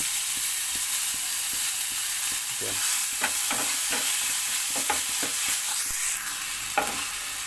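Ginger, garlic and onion paste fries in hot oil in a pan, a steady sizzle broken by repeated scraping clicks of a spoon stirring it, close and fairly loud.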